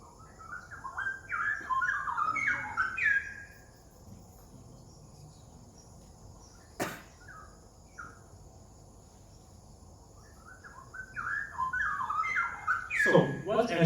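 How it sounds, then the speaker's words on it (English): Straw-headed bulbuls, a critically endangered songbird, sing in bursts of rich warbling notes, with a pair of birds alternating phrases; one burst opens and another closes, separated by a quieter stretch with steady insect buzzing behind. "songs of this straw-headed bulbul is extremely special"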